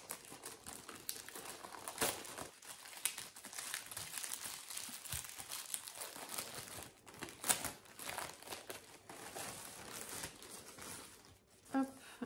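A 150-litre plastic garden waste bag with carry handles is unwrapped and unfolded, giving loud, close crinkling and rustling of plastic throughout, with some talking mixed in.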